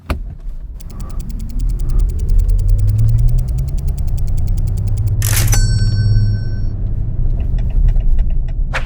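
Maserati Grecale Folgore electric SUV accelerating in sport mode, a steady loud low road and motor rumble with a rising whine, broken midway by a brief sharp click.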